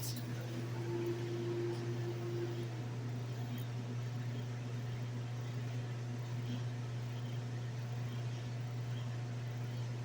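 A microwave oven runs with a steady, continuous hum and a constant low drone, with a brief higher whine near the start and no voices.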